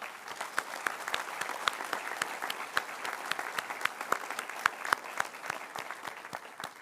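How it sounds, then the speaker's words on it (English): An audience at an Illinois Tech College of Architecture graduation ceremony claps steadily, a dense, even patter of many hands with sharper individual claps standing out, sustained throughout at moderate distance. "Let's give them a big round of applause."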